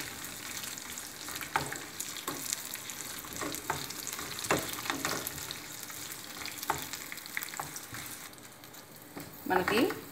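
Unwashed, husk-on sesame seeds roast in a dry pan, a soft continuous crackle with repeated scraping taps of stirring and a louder rattle near the end.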